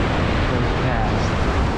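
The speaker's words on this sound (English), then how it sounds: "Waves hella big." Big ocean waves break on the beach at Grayland, Washington, a loud, continuous roar of surf mixed with wind buffeting the microphone.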